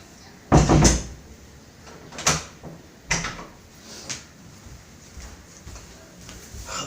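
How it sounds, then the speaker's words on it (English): A wobbling door at a pigeon keeper's place is pushed shut, one loud thud followed by several softer knocks and rattles of the door and latch, close by. "My door is wobbling around. Let me just close it."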